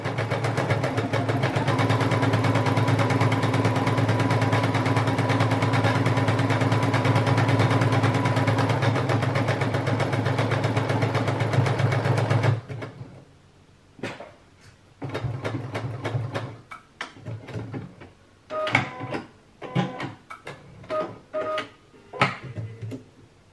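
A sewing machine stitches a dense stretch buttonhole with a steady, close motor whir for about twelve seconds, then stops, followed by scattered clicks and handling knocks.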